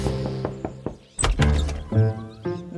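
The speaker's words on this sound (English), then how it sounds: "Then, one morning, a full month after finding the pot, Stanky came knocking on Fergus's door again." In an animated children's story, a series of knocks on a wooden door comes as several short thunks, followed by a louder muffled bump and shuffling noises close by.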